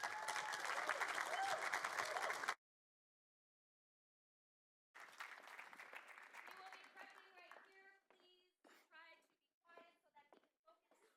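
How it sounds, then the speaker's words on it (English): Audience applause at a college convocation, a steady crowd clapping for about two and a half seconds, then a gap of silence, then a room with scattered voices and sparse claps fading out. "So please, a round of applause"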